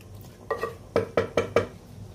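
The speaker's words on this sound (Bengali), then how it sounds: "এবার আমি মাংসটা একটু ভালো করে নেড়ে নিচ্ছি" A spoon stirs meat in a kadai over very low heat, giving a handful of separate metallic scraping clinks, five or so spaced strokes, close and fairly quiet with no talking.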